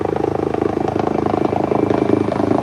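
Helicopter flying overhead during a swift water rescue, a steady loud rotor thrum with pulsing chop that holds throughout without fading.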